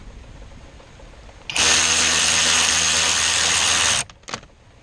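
Variable-speed power tool spinning off a nut on a Chevrolet/GMC hydro boost unit, a loud steady whine for about two and a half seconds that cuts off abruptly, followed by a brief short burst.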